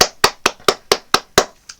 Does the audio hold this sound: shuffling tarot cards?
no